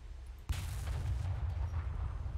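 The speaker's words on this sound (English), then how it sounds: "Let's open fire." Naval guns firing in a naval video game: one sharp, heavy report breaks out of a low rumble, then a dense, rolling boom lingers, loud and close with no talk.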